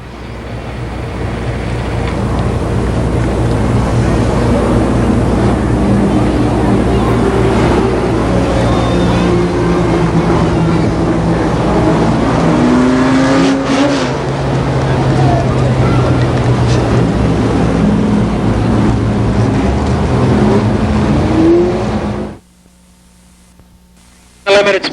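Race cars circle Columbus Motor Speedway in 1990 as a loud, continuous engine drone with passing swells, while an announcer talks over it, before it cuts abruptly near the end.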